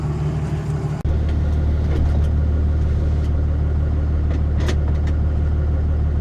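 An early third-generation Cummins diesel truck with a 12-valve tune at 100% timing drives up a hill. After a sharp step about one second in, a loud, steady low diesel drone continues without talk.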